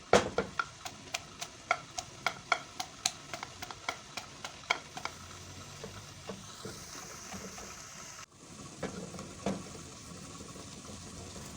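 Mustard greens saag simmering in a pot, a soft bubbling hiss under a run of sharp ticking taps that thin out partway through, close and moderately quiet.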